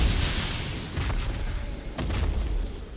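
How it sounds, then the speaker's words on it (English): Fireworks go off in the Elden Ring video game as a series of deep booms. A big low blast opens, followed by sharper bursts about one and two seconds in, over a rumbling background. "Yeah, fireworks going off."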